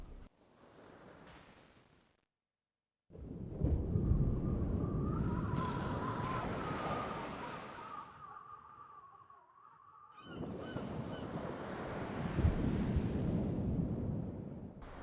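On a Baltic beach in the Garry's Mod game, waves break and wind gusts while birds honk loudly in between. The sound cuts out briefly near the start and returns as dense surf.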